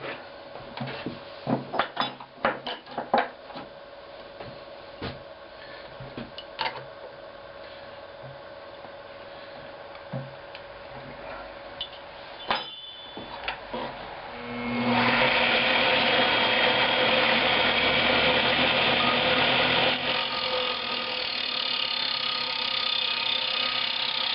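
A wood lathe trues up the face of a segmented wooden bowl, giving irregular scraping clatters and knocks at first, then a steady loud grinding whir of the tool cutting continuously.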